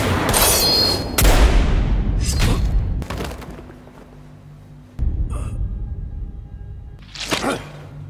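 Sharp loud gunshot bangs from an action film burst out in a few separate blasts, with quieter gaps and rumbling decay between them.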